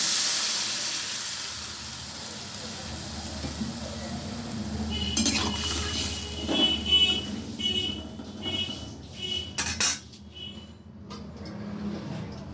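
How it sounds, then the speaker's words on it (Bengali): Water poured into a hot pan of drumstick (sajne danta) posto sets off a burst of sizzling and hissing steam with utensil clatter and stirring, rising midway and fading after a few seconds; no talk. "আমি এবারে জল দিয়ে দিচ্ছি।"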